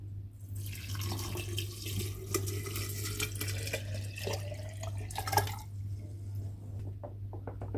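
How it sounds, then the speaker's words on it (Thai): Mixed water for mulberry tepache pours steadily into a jar for several seconds, a continuous splashing trickle over a low hum, tapering off near the end. "หลังจากนั้นเพื่อนๆเทน้ำที่เราผสมลงไปได้เลยค่ะ"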